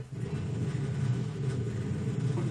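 Motorcycle engine in Super Smash Bros. Brawl, a steady low mid-range idle rumble that holds evenly throughout without talk.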